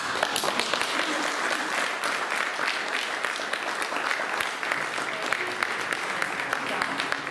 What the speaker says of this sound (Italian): questa volta faccio io un applauso a voi